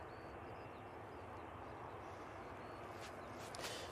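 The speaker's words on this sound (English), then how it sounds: "We have this 737 now on the taxi." A Boeing 737 airliner taxiing at Manchester Airport, heard as a steady broad engine roar at a distance with a faint whine, continuous and even.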